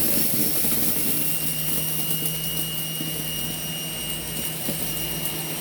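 A spinning turbine head gives a steady, loud high-pitched whine with a rough rushing undertone. It holds constant throughout, with no voices.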